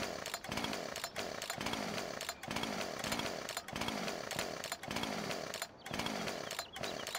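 A chainsaw runs loudly and close, its engine rising and falling in repeated revving surges roughly every second, with no voices over it.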